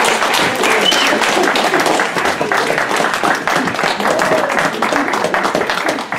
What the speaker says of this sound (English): Let's have a round of applause for Sally.